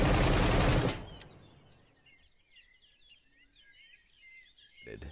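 A loud, dense burst of automatic gunfire from an aimed weapon in the survival game SCUM lasts about a second and then cuts off, leaving birds chirping in the background before a final sharp shot.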